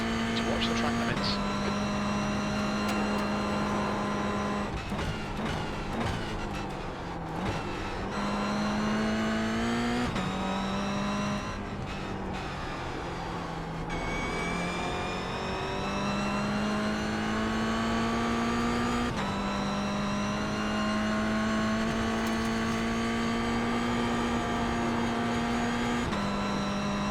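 Mazda MX-5 race car at speed on the Oulton Park circuit, its engine note rising and falling through gears with tires scrubbing speed in corners, a continuous onboard roar with brief lifts and shifts.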